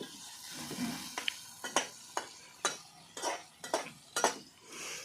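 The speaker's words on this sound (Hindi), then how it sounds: "चम्मच, बढ़िया से मिक्स करो।" A spoon stirring tomato vegetable curry in a pan, with a soft sizzle under a series of sharp metallic scrapes and taps at an irregular pace, close and quiet with no talking.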